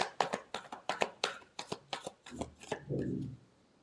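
Close-up shuffle of a tarot deck, a run of about a dozen crisp papery slaps in quick rhythm, then a softer sliding rustle as the cards settle; quiet and alone with no speech.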